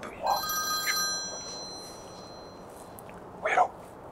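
A telephone rings with a few bright, bell-like electronic tones near the start, followed by a short louder burst near the end over a steady low background.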